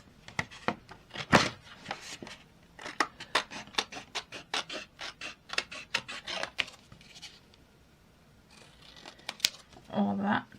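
Scissors cutting fabric trim from a fabric snippet roll, a quick run of sharp snips and rubbing scrapes in irregular bursts, close by, with a voice speaking around them.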